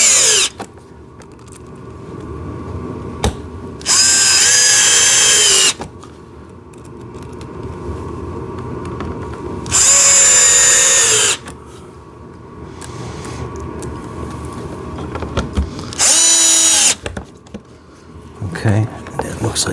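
A power drill drives small screws into a JCB ride-on toy tractor, making three loud, distinct bursts of high whirring of a second or two each, with handling clatter and quieter gaps between them.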